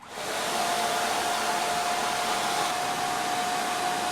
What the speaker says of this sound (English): I have my blow dryer. Just gonna stick it into the hole. And then I'm about to turn it on. It's gonna get real loud.